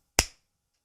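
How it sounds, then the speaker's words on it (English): A single sharp hand clap, close and loud, rings out alone as a cue at the start of a podcast recording, then quickly decays into silence. "You'll hear a clap when it starts"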